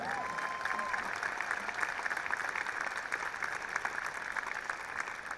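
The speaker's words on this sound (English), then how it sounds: "let's have another big round of applause for your head of hockey operations in Belfast" Steady round of audience applause at an ice hockey event in Belfast, a dense even patter of many hands that stays at constant strength throughout, with a faint voice briefly heard at the start.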